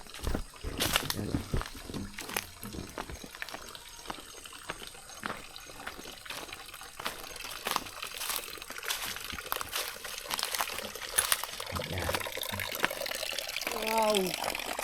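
Water from a natural spring trickles and splashes softly at a low level, with people talking intermittently over it.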